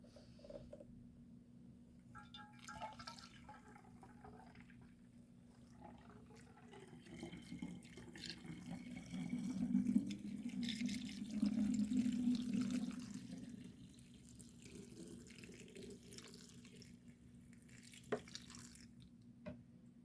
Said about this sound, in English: Make sure you rinse that off in the sink.